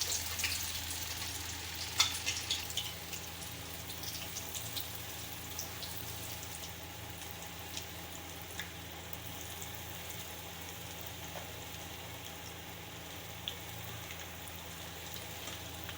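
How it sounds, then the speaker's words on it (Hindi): Coated bread potato rolls deep frying in oil over low heat, a long, even, faint bubbling sizzle with a few small pops and no voices. "अभी फ्रेंड्स हमने इन सब को कोट कर लिया है, तो अभी हम इन्हें फ्राई करते हैं।"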